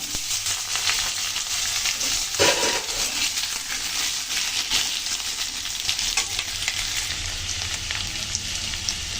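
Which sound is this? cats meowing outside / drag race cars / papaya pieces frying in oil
papaya pieces frying in oil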